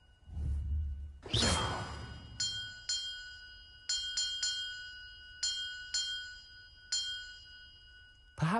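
Bells in the video game Hogwarts Legacy ring out as a series of about eight clear, bright tones at irregular intervals, each one decaying gently. A whooshing spell effect comes first, and there is no talking.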